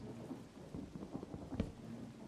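Rain and thunder in the Minecraft video game: a low, steady rain hiss with a soft rumble of thunder and one brief sharper crack near the end, all faint and without speech.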